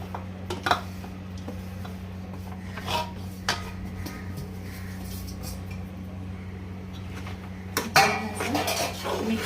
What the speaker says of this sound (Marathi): आता गव्हाचं जे पीठ आहे ते ॲड करणार आहोत